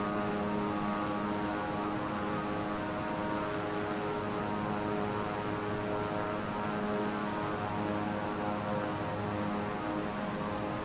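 Steady droning engine hum of an airplane coming in to land with flaps down in the Roblox game Plane Crazy, a constant unchanging roar filling the whole stretch with no talking.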